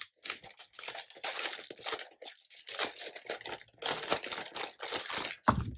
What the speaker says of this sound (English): I'm gonna open all of these because they make quite a bit of noise opening.